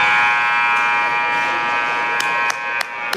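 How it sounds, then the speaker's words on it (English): A hockey arena buzzer sounds a long, steady electric drone through the end of a junior hockey period, loud and continuous, with a few sharp clicks and knocks near the end. "And the buzzer."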